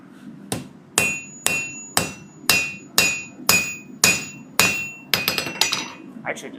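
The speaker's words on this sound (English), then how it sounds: "I just want to bang on some steel." A blacksmith's hammer strikes steel about ten times in an even, deliberate rhythm, each blow a sharp, ringing clang that decays before the next, ending in a quicker flurry of lighter taps.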